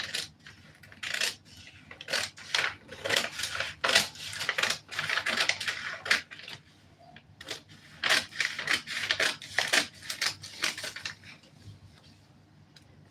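Scissors snip through a paper dress pattern being drafted, a close run of short crisp cuts in bursts with brief pauses between, fairly quiet and with no talking.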